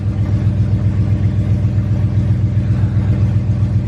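A BMW 540 engine idles steadily in reverse gear with a low, constant rumble, loud and close, with no other sounds.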